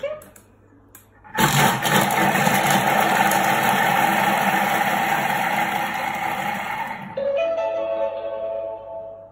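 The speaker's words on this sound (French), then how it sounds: "je vais mixer mon oignon 5 secondes, vitesse 5" A Thermomix chops an onion at speed 5: the motor kicks in abruptly with a loud whirring roar, holds steady for several seconds, then shifts to a lower hum as it winds down.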